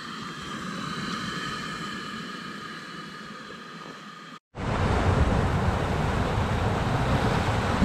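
Toyota FJ Cruiser 4WD crossing the King River in the Victorian High Country, a loud continuous rush of water and engine noise that cuts out briefly, then returns as a broad, heavier roar.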